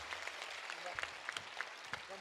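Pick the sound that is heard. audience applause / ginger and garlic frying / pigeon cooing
audience applause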